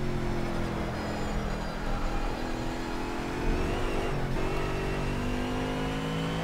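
BMW car engine on the Nordschleife in the Project Cars racing game, a steady mid-pitched drone holding at near-constant revs with a slight swell midway, close and continuous with no talk.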